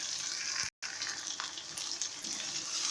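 Okra (bhindi) fries in a pan while a spoon keeps stirring it, making a continuous crackling sizzle with a brief silent break and faint scrapes throughout.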